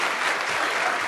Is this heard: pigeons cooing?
no